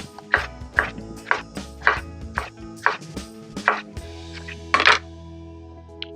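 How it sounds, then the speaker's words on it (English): A knife cuts a scooped-out melon into quarter-inch slices for a fruit platter, with about ten crisp, evenly paced chops on a cutting board up close, then a brief pause and a final cut. "So once it's scooped out, we're going to cut 1/4 inch slices."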